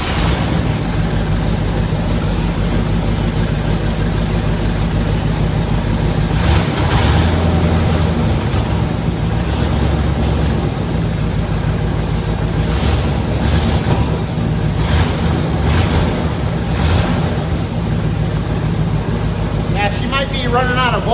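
A 1972 Corvette with a 454 engine runs loud and close, a steady low rumble with several surges as the throttle is blipped, while someone talks over it.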